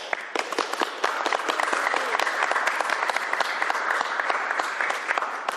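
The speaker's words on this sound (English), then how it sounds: "Please give her a round of applause." Steady applause from the audience at a governor's bill signing, honoring the prime sponsor, Representative Reeves; dense, sustained clapping close by, with no voices above it.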